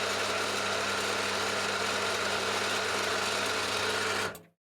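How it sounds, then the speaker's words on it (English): A drill bores a 5 mm hole through a steel pipe fitted with a tapped-in adapter, a steady loud whirring hum running continuously for about four seconds before cutting off abruptly into silence. "Now I'm drilling"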